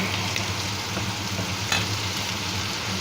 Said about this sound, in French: le beurre est en train de fondre et là j'ai rajouté une très grosse poignée de julienne de légumes